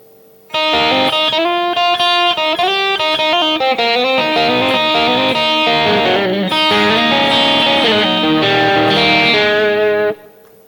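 An electric guitar slowly plays the closing phrase of a blues instrumental, a ten-second string of clear, ringing picked notes and bends, up close and alone.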